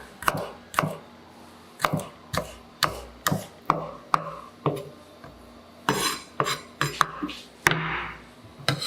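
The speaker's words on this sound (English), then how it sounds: "Cut the scallion into small pieces." A knife chops scallion on a cutting board in a steady series of sharp, close thuds, roughly one or two per second, with faint scraping between strokes and no talk.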